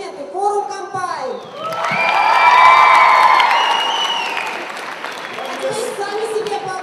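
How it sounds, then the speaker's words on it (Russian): An audience at the Higan 2010 anime festival in Russia bursts into applause and cheering that swells to a loud peak mid-way and then fades, with shouts and an announcer's voice heard at the start and end. "Особые аплодисменты"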